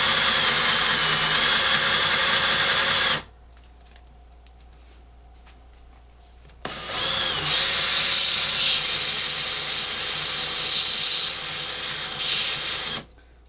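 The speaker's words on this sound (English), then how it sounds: "I just used the sanding belt to kind of clean off the burrs from the rod." A sanding belt cleans burrs off a metal rod tube for a custom RC trophy truck, a loud steady grinding hiss that cuts off for a few seconds of quiet, then resumes louder with a brighter edge.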